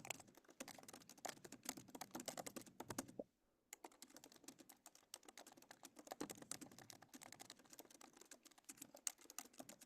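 Rapid typing on a computer keyboard, a dense close-up clatter of individual key presses that stops for a short pause midway and then resumes at a steady pace, with no one talking.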